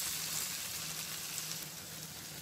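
Turmeric powder frying in hot oil for a gram flour chutney, a soft, even hiss and crackle that stays steady and fairly quiet throughout.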